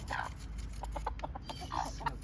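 A chicken clucks in short bursts nearby, soft repeated clucks over a low background hum.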